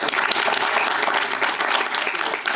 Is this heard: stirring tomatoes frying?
no